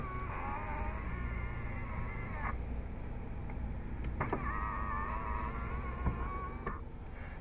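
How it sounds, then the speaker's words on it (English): Power side mirrors folding on a 2014 RAM 1500 Big Horn Crew Cab 4X4, two steady electric motor whirs, each a couple of seconds long and ending in a soft clunk, heard close over a low idling hum. "folding the side view mirrors is easy, just pressing the button in the center between the L and R buttons"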